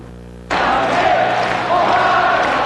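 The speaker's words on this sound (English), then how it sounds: "With thousands cheering him on" A huge crowd of thousands of supporters at a campaign rally for French President Valéry Giscard d'Estaing bursts suddenly into loud, sustained cheering that swells a little further near the end.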